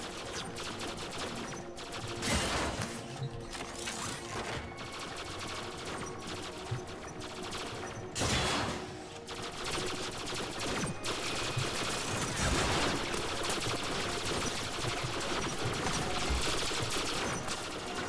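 Sustained turret gunfire in the Warframe game, dense rapid bursts of shots running continuously with brief heavier swells, loud and close throughout with no talking.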